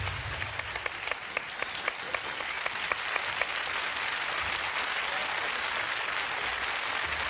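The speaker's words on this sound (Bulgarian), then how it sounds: "Аплодисменти за тях" An audience breaks into sustained applause for a team at a competition show, dense clapping building and holding steady throughout, a few sharper claps standing out early on.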